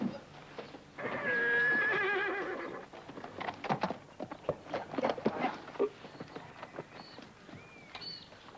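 A horse lets out a loud, drawn-out whinny, followed by hooves clopping and shuffling nearby, with a few softer snorts and calls afterward.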